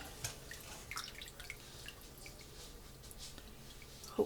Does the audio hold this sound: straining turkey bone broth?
yes